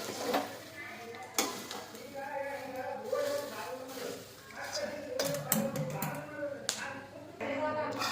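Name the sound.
stirring puffed rice (churumuri) in a pan on the stove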